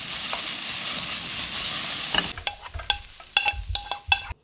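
A single spoonful of garlic stir-fries in a preheated wok: a dense, loud sizzle for about two seconds, then it drops to sharp scraping and clacking of the utensil against the wok with a fainter sizzle between strokes.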